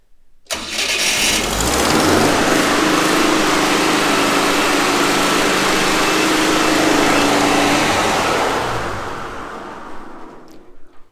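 A rare, heavy air-cooled engine cranks and fires up, then runs loud and steady at a high fast idle near 3000 RPM for several seconds before the sound drops away.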